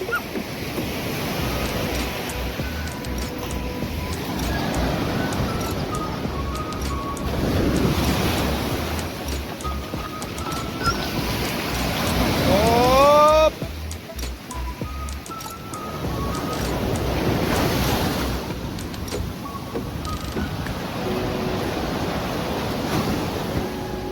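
Sea waves roll and break on a rough, choppy shore at a beach campsite, rising and falling surges with wind buffeting the microphone, loud and close, and a brief whistling tone partway through.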